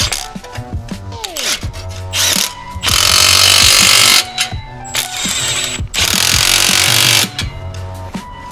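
A ratchet wrench clicks quickly in repeated runs while snugging 15 mm bolts on an OTL Performance catback exhaust being fitted to a Toyota GR Corolla. Loud, close mechanical ratcheting comes in bursts with brief pauses and metallic rubbing.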